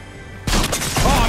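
Gunfire in the video game Fortnite, a loud burst of shots starting abruptly and continuing as a dense volley of cracks and booms.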